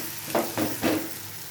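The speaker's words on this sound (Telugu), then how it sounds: "మనం ముందుగా ఫ్రై చేసి పెట్టుకున్న గోంగూర మెంతెం కూర" Fried gongura and methi curry added to a pan and stirred, with a continuous sizzle and three quick scraping stir strokes close up.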